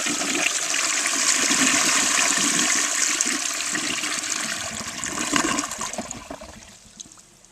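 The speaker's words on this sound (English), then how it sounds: "And now we're ready for the first flush." A 1959 Standard Modernus toilet flushes close up, a loud rushing gush of water that swirls steadily, then tapers into gurgling and a fading trickle as the bowl drains.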